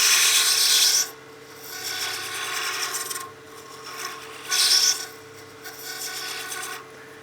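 A lathe cutting an acrylic honeycomb pen blank, a rough scraping rasp in repeated bursts of about a second each, separated by quieter stretches of softer cutting.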